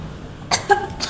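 A patient at a pharmacy counter coughs with a complaint of a chesty cough: one sharp hacking cough followed by a second, a little throaty, close and fairly loud against a quiet room.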